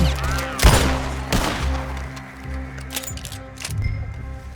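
Red Dead Redemption 2 gunfight: several sharp, loud gunshots crack at irregular intervals over a low game ambience, with a couple of quicker follow-up shots near the end.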